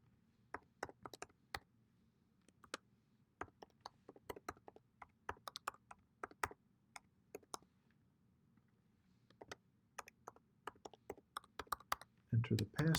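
Sparse typing on a computer keyboard while entering login details for Naviance on a school website, with scattered sharp keystrokes in short irregular clusters, close and fairly quiet, and a soft voice briefly heard toward the end.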